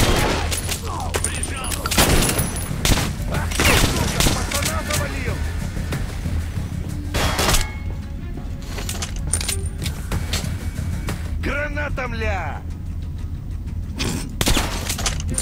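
Enemy gunfire in Metro: Last Light crackles in scattered bursts and single shots, some near and sharp, others duller, mixed with metallic clinks and ricochets while someone talks over the action.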